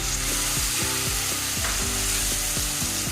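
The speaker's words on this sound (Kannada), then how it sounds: "ಈರುಳ್ಳಿ ಚೆನ್ನಾಗಿ ಫ್ರೈ ಆಗಿದೆ. ಈಗ ಮೆಂತ್ಯ ಸೊಪ್ಪು ಹಾಕ್ಕೋತಾ ಇದ್ದೀನಿ." Fenugreek leaves and onions fry in a pan for methi paneer masala, giving a constant loud sizzle cut by regular scraping strokes of stirring.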